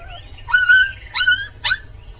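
A cartoon dog in a Hindi animated story gives three short, high whimpering yelps and whines in quick succession, close and clear over a quiet background with no talking.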